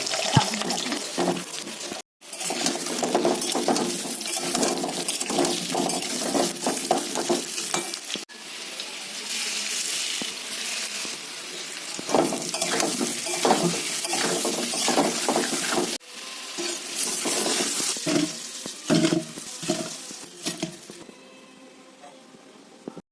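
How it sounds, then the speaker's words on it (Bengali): Steady sizzling of potatoes frying in hot oil, with occasional stirring and clattering, continuing for a long stretch at moderate volume. "এখন আমি আলুটা ভাজা করে নিচ্ছি"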